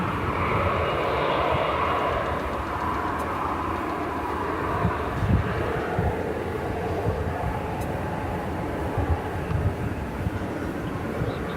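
An American Airlines airliner at DFW Airport at night, a steady broad engine roar that holds for the whole stretch at moderate distance, with slight swells and no voices.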